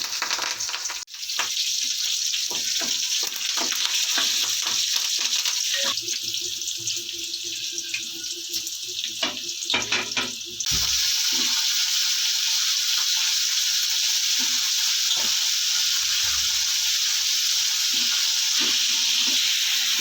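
Green chillies and potatoes fry in a pan with a loud, steady sizzle that runs the whole time, broken by scattered clinks and scrapes of stirring; no one speaks.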